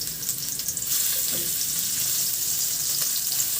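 Garlic sautéing in hot oil in a pan, a continuous loud sizzle and crackle with a brief stirring scrape partway through, close by and without voices.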